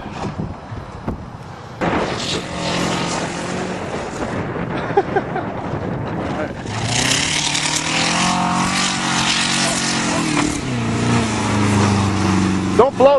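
A Saturn car engine revs hard while driving on a farm, a loud, rough, varying roar that rises and falls, with people talking over it.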